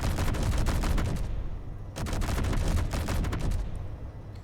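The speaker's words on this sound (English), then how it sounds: "This is the auto cannons." Rapid bursts of autocannon fire in the video game Space Engineers rattle in quick succession, two long volleys separated by a brief pause, loud and close.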